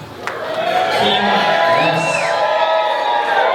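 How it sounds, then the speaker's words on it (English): Wedding guests cheer, whoop and clap after a best man speech, a dense continuous roar of crowd noise with scattered shouts throughout, and a single word spoken over the din. "nice round of applause for Bob Langlegs, everyone"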